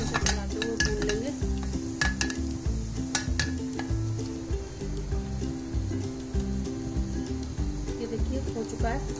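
Cumin and whole red chillies sizzle in hot oil for dal while a spoon stirs and clinks against the pan in an irregular rhythm, close and fairly quiet.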